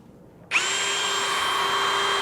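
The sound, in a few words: drilling pilot holes in car radiator support panel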